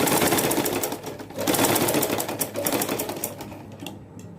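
Sewing machine stitching a strip of piping fabric for a baby frock, a rapid mechanical whirring chatter running in close bursts with brief slowdowns between runs, no voices.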